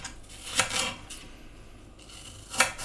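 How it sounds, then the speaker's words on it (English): Knife slicing green apples into small pieces on a board, a few distinct crisp cutting strokes near the start and end with quieter scraping between, close and fairly quiet. "I'm going to slice them up into smallish pieces"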